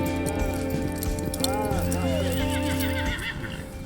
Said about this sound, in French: Fais-nous un grand galop que ça ouvre le cheval.